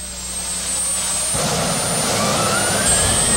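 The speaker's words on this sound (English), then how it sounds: "Here comes one to go, the T-53 turbine of Gary Mills" A T-53 turbine engine powers a pulling vehicle at a 1987 tractor pulling event, giving a loud, steady jet-like whine that swells and deepens about midway as the engine builds power. No voices are heard.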